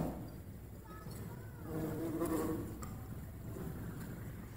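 Bees buzz around flowering Diervilla shrubs outdoors, a faint, wavering drone that swells and fades as insects move close to the flowers and away again.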